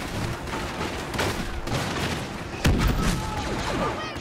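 A proxy bomb detonating in Star Wars Battlefront, a sudden loud boom landing amid continuous game blaster fire and battle noise, with dense rumbling effects throughout.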